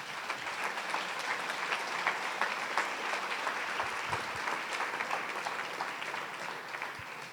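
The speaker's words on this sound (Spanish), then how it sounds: "denle un gran aplauso." Church congregation at a Sunday service giving a big round of applause, dense continuous clapping from many hands that stays steady and fills the room for several seconds, with no speech over it.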